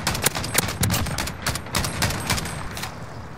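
Rapid, sharp bursts of automatic gunfire in Call of Duty: Modern Warfare, close and fairly loud, coming in uneven clusters of shots with brief gaps between them.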